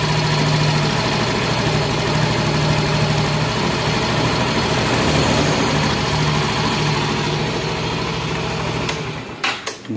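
A Yamaha Mio M3 injection scooter engine idles steadily and close up with a constant low drone, then stutters and cuts out near the end as it is switched off.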